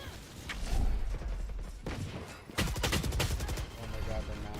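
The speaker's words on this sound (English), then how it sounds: "They're shooting so many bullets at me." Rapid bursts of gunfire from the Valorant video game, a dense loud clatter of shots broken by brief pauses, with a player's voice talking over it.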